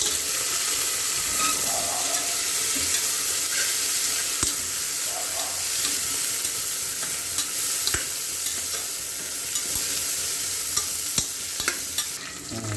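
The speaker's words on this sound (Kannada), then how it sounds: "ಈಗ ಇದನ್ನು ತಿರುಗಿಸ್ಕೋಬೇಕು" Green chili, coriander and mint fry and sizzle steadily in a pan while being stirred, with occasional scrapes and knocks of the spoon; a continuous close, moderately loud sizzle with no talking.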